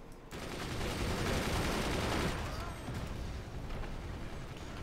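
Missile launches and explosions from the video game Forts build into a dense, continuous barrage of gunfire-like booms and crackles that roar steadily for several seconds, then ease slightly.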